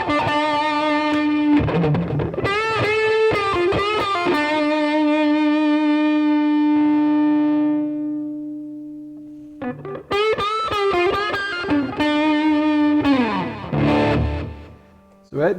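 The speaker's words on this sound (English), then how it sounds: "now I'm going to go all the way open with the distortion." Electric guitar played through a hand-built BK Butler Tube Driver clone with the distortion turned fully up, giving loud, saturated chords and a long sustained note that rings out, a brief pause, then more driven strummed chords alone.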